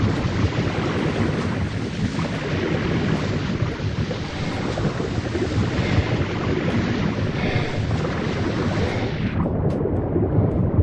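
Swimming through water in Ark Survival Evolved: a continuous dense rush of churning water and muffled underwater roar holds steady for several seconds, then the brighter top of the sound drops away near the end.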